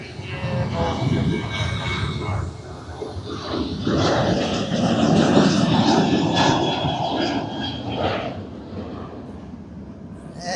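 Airliners landing and taking off at Manchester Airport produce a broad, rumbling engine roar that swells and fades at a moderate distance, with people chatting faintly in the background.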